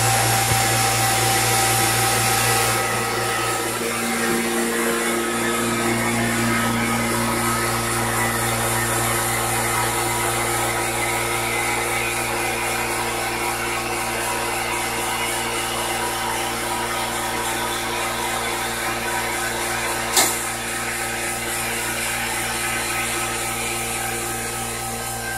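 A 2.5 CFM two-stage vacuum air pump runs steadily for the whole stretch, a loud continuous motor drone and whir with a constant tonal hum, near and alone, with one brief click partway through.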